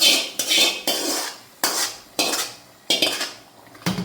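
A spoon stirring prawn curry with fried onion and curry leaves in a pan, about seven distinct scraping and clanking strokes in a slow rhythm, close and moderately loud, no speech.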